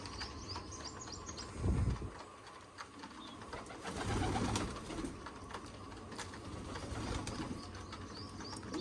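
Soft coos murmur from two pigeons perched nearby on a rooftop pigeon perch against an outdoor background, with a couple of brief low thumps; no one speaks.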